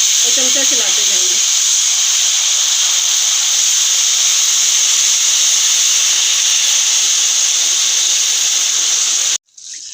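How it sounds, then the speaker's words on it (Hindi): Sugar syrup poured into roasted semolina for suji halwa hisses with a loud, steady sizzle. A brief voice is heard at the start, and the sizzle runs unbroken until it cuts off abruptly just before the end. "हमने जो शीरा तैयार किया वो ऐड करेंगे और चमचा चलाते जाएंगे"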